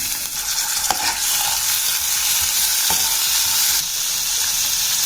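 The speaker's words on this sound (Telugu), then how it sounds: "నెయ్యి జీలకర్ర కొంచెం వేగిన తర్వాత మనం ఒక పది నిమిషాల ముందు నానబెట్టుకున్న పచ్చిశనగపప్పు అవి వేసుకుందాం" Soaked chana dal hits hot ghee with cumin seeds in a pan, giving a loud, continuous sizzle with occasional stirring scrapes, close and unbroken by talk.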